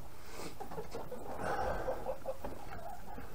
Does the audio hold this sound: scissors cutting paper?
no